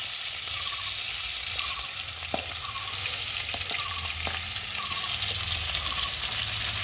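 Fish fries in oil in a wok set over a wood fire, with a steady close sizzle and occasional light clinks and taps of a utensil, no talking.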